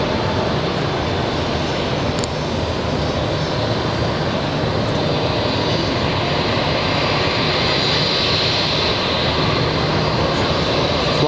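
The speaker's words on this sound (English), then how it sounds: "we have a Lufthansa A340-600, big boy." A Lufthansa Airbus A340-600 jet passes overhead near JFK Airport, its broad engine roar steady and loud for the whole stretch, with no voices.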